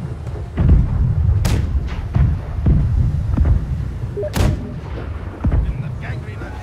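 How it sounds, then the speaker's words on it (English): Ship cannons booming in the naval combat game Blackwake, several loud heavy blasts spaced a second or more apart over a constant low battle rumble, with some faint voices. "Left side cannons fire."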